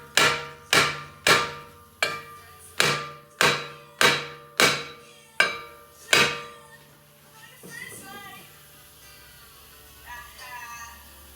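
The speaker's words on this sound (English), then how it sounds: "There's really not much room to get a hammer blow in." A hammer strikes the rear wheel hub of a 2009-2017 Dodge Journey AWD, ten sharp ringing metallic blows in a steady rhythm, loud and close, followed by quieter clunks and scraping as the hub comes loose.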